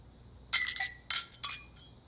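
Glasses clink together in a toast, three to four bright, sharp chimes in quick succession, close and clear against a quiet background.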